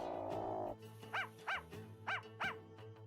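Shadow, a dog in an Ace Attorney video game, gives four short synthesized barks in two quick pairs, clear and close after a brief stretch of game music, with nobody talking.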